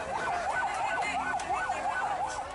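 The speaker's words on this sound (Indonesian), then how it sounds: "Belasan mobil pemadam kebakaran dikerahkan." Fire engine siren wailing at a burning shop, the rising and falling tone repeating steadily several times, loud and continuous with no voices.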